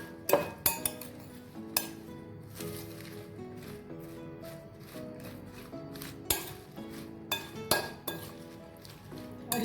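A utensil mixing vinegar, salt and spices in a dish, giving repeated sharp clinks and scrapes against the dish at an irregular rhythm, close and fairly quiet.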